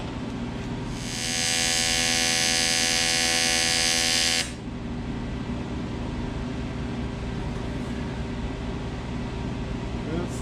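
TIG welding on a Kawasaki ZXi 1100 watercraft exhaust, a loud steady buzzing arc that runs about three and a half seconds over a constant background hum, then cuts off.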